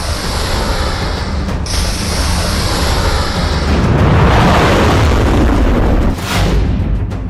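Iranian Sejjil missile launch: a sustained, loud roaring rumble that swells and thickens midway, with broadband blast noise and a deep low-end thunder continuing throughout, with no voices.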